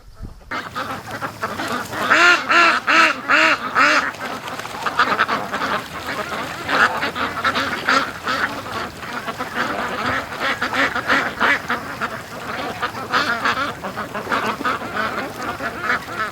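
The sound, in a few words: ducks quacking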